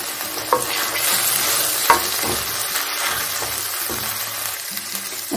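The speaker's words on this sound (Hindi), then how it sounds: "टमाटर भी हमारी भून चुकी है, अब हमने जो भजा के लिए मसाला तैयार किया था उसे डाल देते हैं।" Spiced masala being stirred into fried tomatoes in a pan for stuffed parwal sabji, a steady close sizzle broken by scraping spoon strokes and a few sharper clinks, with no voices.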